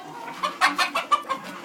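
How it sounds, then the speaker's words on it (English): A rooster clucks in a quick run of short, bright calls on a chicken farm, close by and fairly loud, with no talking. "That's a beautiful rooster there."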